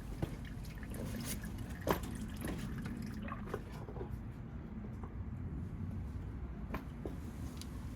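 Engine oil drips and drains steadily from the drain plug of a VW Sharan during an oil change, a continuous soft liquid trickle with a few distinct louder drips, close and fairly quiet.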